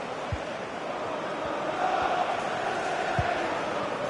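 Disgruntled stadium crowd in the EA FC 26 football game, a steady distant wash of murmuring and jeering voices with a few dull thuds on the pitch.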